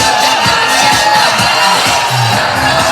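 Soldiers at a military base cheer loudly for a women's dance team's performance, a dense, continuous crowd roar with whoops and music running underneath.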